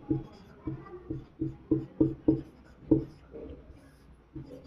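Rhythmic scratchy strokes of writing on paper or a board, about a dozen pulses with short pauses between them, while a teacher talks during a Sanskrit class.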